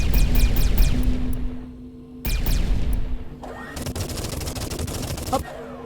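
Rapid bursts of ship gunfire in the space combat game Everspace 2, loud and dense, pausing briefly and then resuming with layered electronic weapon tones and a final crackling blast.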